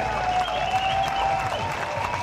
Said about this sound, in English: The warm applause for Usain Bolt.